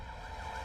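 A brief, steady wail of an ambulance siren, moderately loud with a wavering pitch, heard alone.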